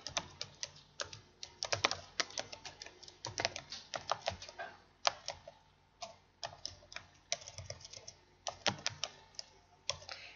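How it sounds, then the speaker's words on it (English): Quick, irregular bursts of keystrokes tap on a computer keyboard close by, with short pauses between runs of typing in a quiet room. "I'm trying to type in a bunch here so I can just give you a couple ideas."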